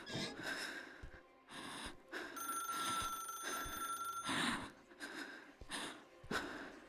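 A telephone rings in the video game Dark Atlas: Infernum, repeating ring bursts at moderate volume, mixed with gasping breaths and snorts between the rings.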